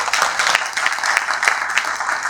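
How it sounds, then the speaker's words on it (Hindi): Audience applause at a leadership development event for a direct selling company, a dense steady clapping from a crowd filling the room throughout. "इसलिए जोरदार ताली दीजिए।"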